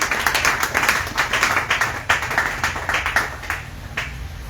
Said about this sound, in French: Que tu acclames ça pour le Seigneur Jésus.